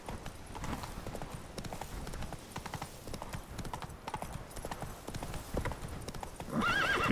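Horse hooves clip-clopping steadily in the video game The Witcher 3: Wild Hunt, a fast rhythmic trot close up over a low ambient bed, ending with a brief whinny.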